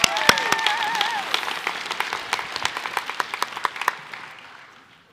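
Audience clapping at a high school senior prize-giving, a scattered round of claps that starts with a few whoops and thins out, ending in fading sparse claps.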